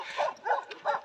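Dogs on a mountain trail bark in three quick, close yaps with short gaps between them.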